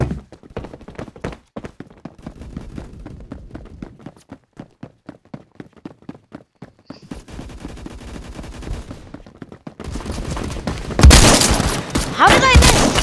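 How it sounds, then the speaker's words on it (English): Shotgun blasts in the shooter game Phantom Forces, sharp reports ringing out amid rapid gunfire and footsteps, growing denser and louder toward the end with a heavy burst of firing. "I can hear the shotgun again."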